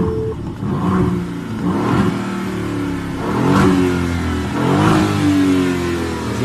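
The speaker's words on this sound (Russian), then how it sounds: "Здесь у нас мотор V8 4 литра битурбо." An Aston Martin DB11 4-litre twin-turbo V8 revs repeatedly, several throaty rising bursts close up, each swelling and falling back to idle.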